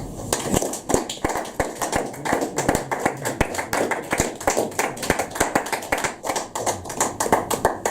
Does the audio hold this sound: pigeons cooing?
no